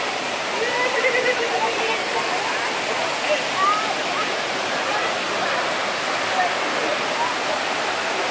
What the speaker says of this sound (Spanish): Cascada de Gilitla, Huasteca Potosina, San Luis Potosí, México.